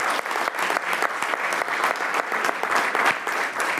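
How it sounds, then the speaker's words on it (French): People at a municipal council meeting clap in a brisk, uneven burst of applause, many hands close and lively, holding steady for a few seconds. "Premièrement, une bonne main d'applaudissements"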